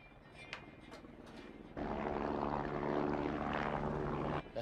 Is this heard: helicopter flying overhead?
yes